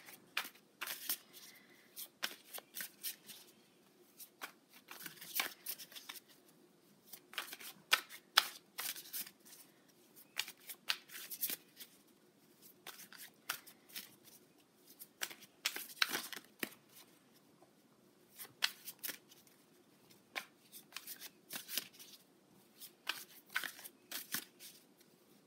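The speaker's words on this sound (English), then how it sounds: "I'm going to pull a card from my moon deck" Tarot card deck being shuffled up close, repeated quick crisp riffling bursts separated by short quiet pauses, alone and fairly soft.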